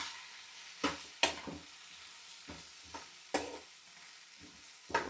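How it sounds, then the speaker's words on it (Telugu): Split gram dal dry-roasting in a pan and being stirred, a soft sizzle underneath several sharp scraping strokes of a spoon at irregular intervals, close and quiet, with no talking. "ఒక్క సెకండ్ అలా పచ్చివాసన పోయేలా గులసెనపప్పు కూడా వేపుకుంటే"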